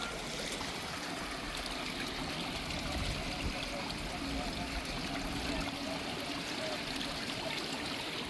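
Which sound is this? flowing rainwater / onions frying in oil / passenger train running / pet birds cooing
flowing rainwater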